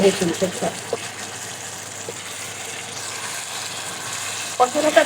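Beef curry fries in oil once its water has cooked off, giving a low, steady sizzle with a few louder bursts of activity near the start and end.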